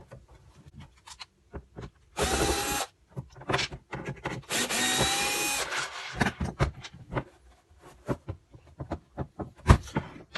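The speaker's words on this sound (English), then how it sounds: "I'll take the screws out and give it a real check." A power drill backing screws out of a wooden piece, with two whirring bursts of the motor, one short and one longer, set among scattered nearby clicks, taps and handling knocks in a quiet room.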